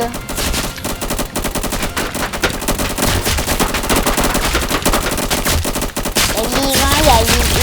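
Rapid, continuous gunfire rattles loudly throughout in the Roblox video game The Island Reborn, a dense overlapping stream of shots with brief dips.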